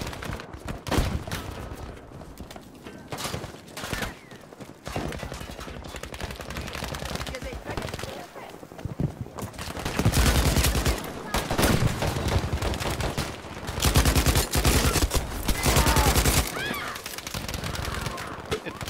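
An LS/26 light machine gun fires in Battlefield 5, long rattling automatic bursts growing denser and louder in the second half, with short gaps between strings and a voice speaking over the gunfire.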